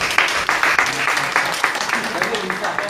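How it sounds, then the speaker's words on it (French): Audience at a digital careers forum in Porto-Novo applauding, a steady patter of many hands clapping at moderate distance, with a voice talking over it. "J'aimerais que vous vous applaudissez vous-même d'abord."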